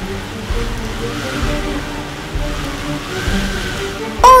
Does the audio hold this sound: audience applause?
no